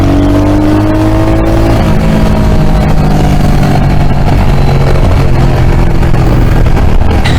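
A Royal Enfield Hunter 350 motorcycle's single-cylinder exhaust thumps loud and close, revving up and settling as the engine pitch rises and falls through the gears.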